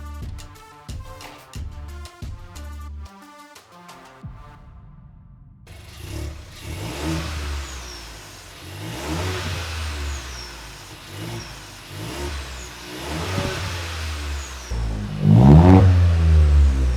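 A Seat Ibiza FR with its exhaust backbox deleted starts up and revs, a close, raspy engine note swelling through several blips and growing loudest near the end, after some clanking of work in a garage.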